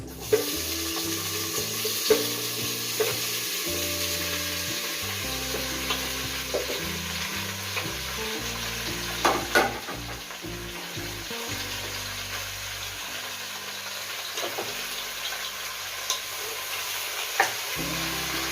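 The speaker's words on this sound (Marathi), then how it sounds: "आणि असं पळीने आपण खालीवर करून घ्यायचे आहेत लिंब जेणेकरून ते खाली लागणार नाही" Lemons for pickle are stirred in oil in a pan over low heat with a ladle, producing a continuous close sizzle with repeated scraping and clattering strokes, no voices.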